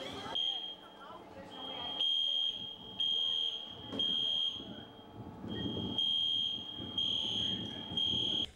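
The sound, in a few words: fire alarm going off in a building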